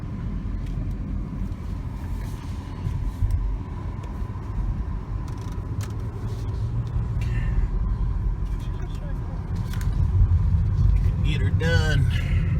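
A BMW on a test drive at a charity event: a low engine rumble and road noise build steadily as the car accelerates, heard from inside the cabin with people talking over it.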